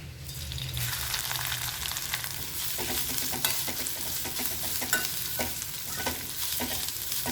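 Ginger for puli inji fries in hot oil, a bright continuous sizzle with repeated scraping and stirring clicks in an uneven rhythm, heard close and with no talking.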